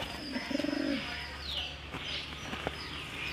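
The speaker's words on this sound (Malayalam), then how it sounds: "ഇതൊക്കെയാണ് എൻ്റെ പ്രാവ്" Pet pigeons coo in a short rounded burst near the start, followed by faint chirps and light rustling over a steady low background hum.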